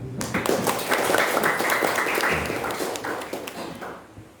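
An audience at a primary school farewell claps in a sustained round of applause that swells, holds, and then tapers off near the end.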